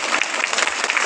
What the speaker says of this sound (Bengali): তাই তাদের উদ্দেশ্যে জোরে জোরে একটা করতালি দিন আপনারা।